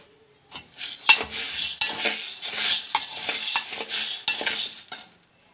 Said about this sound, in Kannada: ಕಾಳನ್ನು ಚೆನ್ನಾಗಿ ಹುರಿದುಕೊಳ್ಳೋಣ